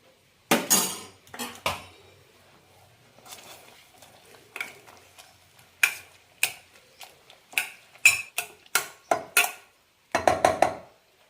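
Boiled potato being mashed in a pan with a utensil, heard as a series of sharp metallic clinks and taps against the pan, irregular then quicker near the end, with quiet gaps between.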